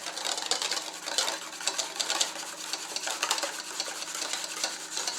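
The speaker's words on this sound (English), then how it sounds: "Stirring the entire time." Egg custard for French vanilla ice cream is stirred nonstop in a pot, a dense, continuous scraping and swishing with a brisk steady rhythm, close and fairly loud, with no talk.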